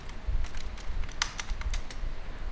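A password is typed on a computer keyboard as a quick, uneven run of close, light key clicks over faint room hiss, with no voices.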